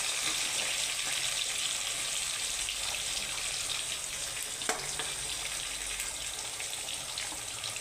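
Potato pieces frying in hot oil in a pan, a steady soft sizzle throughout, close and moderately quiet, with a small clink partway through.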